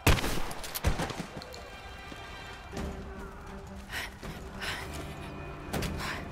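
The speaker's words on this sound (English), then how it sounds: "We're under fire at the edge of the village." Gunfire in Rise of the Tomb Raider: a few loud, sharp shots crack close by at the start, then sporadic thuds and distant shots ring out over a sustained tonal background.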